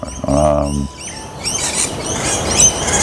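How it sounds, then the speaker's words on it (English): Birds call and chirp outdoors on a beach property, with bright, scattered tweets over a soft hiss of ambient noise; a brief low voice is heard at the start. "I can hear a lot of bird life"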